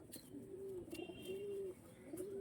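Tournament-quality pigeons for sale give soft, drawn-out coos in repeated low phrases, faint and fairly close, with occasional light chirps and no voices.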